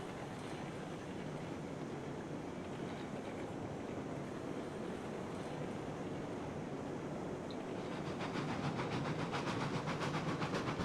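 A steam locomotive in the train-simulation game Railroads Online runs with a steady, dense roar and hiss that swells louder and brighter near the end as it builds steam, heard alone with no talk.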